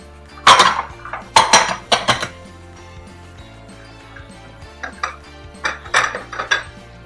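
Spoon clinking and scraping against a bowl while stuffing for Italian olives all'ascolana is mixed with finely chopped celery, in irregular close bursts of metallic knocks with short pauses between.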